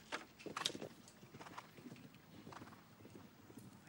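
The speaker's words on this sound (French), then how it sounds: "regardez le galop de ce cheval déjà, ah, ça c'est un galop qui avance" A show jumping horse gallops in a Global Champions Tour Grand Prix arena at Chantilly, its hoofbeats thudding in quick strides under crowd murmur and ambient arena noise, fairly faint and distant.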